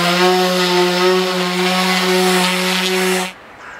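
A power sander runs steadily on a wooden pallet in a workshop, a loud, close, even whine with a rough rubbing texture, then cuts off abruptly near the end.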